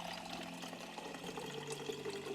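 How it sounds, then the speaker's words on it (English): A water bottle fills at a water dispenser in a video game, giving a steady, continuous rush and pour of liquid from start to end with no talk. "fill up that water bottle."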